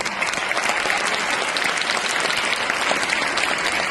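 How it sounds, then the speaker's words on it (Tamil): Audience applause at a dance programme, a loud steady burst of many hands clapping throughout, with a voice faintly underneath. "கைதட்டு பண்ணா."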